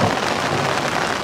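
Pouring rain drums down at night on a campsite on the Colorado Trail during a thunderstorm, a dense, loud, unbroken hiss of heavy rainfall.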